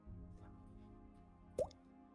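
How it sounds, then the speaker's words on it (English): A single water droplet plop in a game with a water droplet theme, one brief bright drip sound standing out over a quiet ambient music bed. "I just heard a drop"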